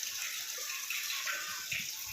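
Water gushes steadily into a swimming pool being filled, a constant hissing rush of flowing water heard close and fairly quiet, with a few low splashy bumps near the end and no talking.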